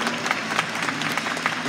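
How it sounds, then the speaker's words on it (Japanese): Audience applause rolls through a hall at an Avispa Fukuoka fan appreciation day talk show, a dense, steady patter of many hands clapping. "今拍手していただいた人たち本当にありがとうございます"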